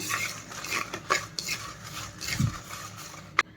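Dried red chillies dry-roasting in a pan, stirred with a metal spoon that scrapes and clinks against the pan in an irregular rhythm, close up, with one sharp knock near the end and little sizzle.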